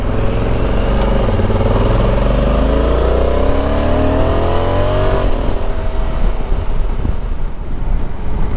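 A line of motorcycles and a van pass on a road in the Peak District during a group rideout, engines droning loudly with a rising and falling pitch sweep, wind buffeting the microphone.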